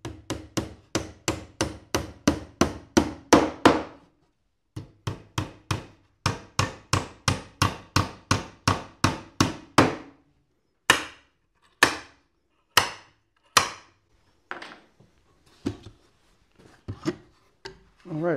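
Steady rapid hammer blows driving a nail into wood, dense runs of sharp strikes, then slower spaced hits with pauses, close and loud.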